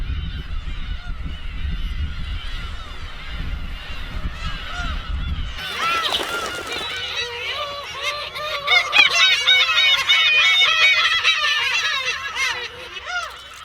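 Black-tailed gulls at sea off Hongdo call repeatedly in loud, nasal, honking cries, a low rumble giving way to a dense chorus of overlapping calls.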